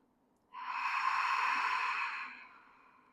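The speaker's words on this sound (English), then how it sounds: "Exhale out of the mouth." A long, loud breath pushed out through the mouth during a yoga flow, close to the mic, rising quickly and fading over about two seconds.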